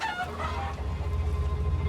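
Hens squabbling in a chicken coop at feeding time, with overlapping clucks and honking squawks over a steady low rumble, close and continuous.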